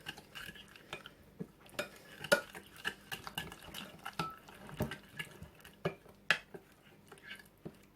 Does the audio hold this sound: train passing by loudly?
no